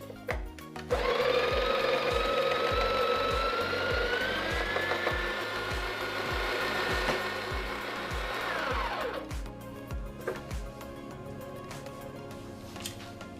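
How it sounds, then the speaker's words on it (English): A Breville Barista Pro's built-in burr grinder whirs steadily through a load of coffee beans for about eight seconds, a close, fairly loud mechanical drone with a rising whine that cuts off abruptly into quiet. "first thing I noticed is the sound of the grinder"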